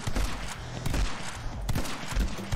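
Gunfire from the basic gun in the video game My Friend Pedro, repeated shots and bursts in an irregular rhythm over heavy in-game action noise, loud and dense.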